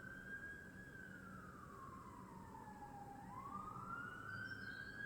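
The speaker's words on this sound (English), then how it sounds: "Listen to how loud them sirens are" An emergency vehicle siren wails along a street in London's NW8 area, its tone sweeping slowly down and back up, loud and continuous over a low traffic rumble.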